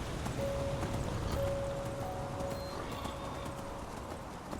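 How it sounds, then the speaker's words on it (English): Hooves clip-clop at a steady galloping rhythm as a horse is ridden in the video game Skyrim with the Enderal mod, fairly quiet under wind-like ambience and a thin sustained tone, with no talking. "here we are, riding Lydia into the sunset"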